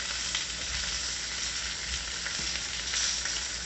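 Pork roll slices sizzle and fry in a pan for breakfast sandwiches, a steady close crackling hiss with small popping spatters, constant and alone with no talk.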